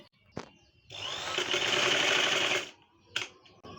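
A sewing machine runs in one steady, loud burst of a couple of seconds, stitching gathered fabric pleats for the neck of a baby frock, with brief handling taps before and after.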